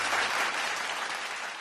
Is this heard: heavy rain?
no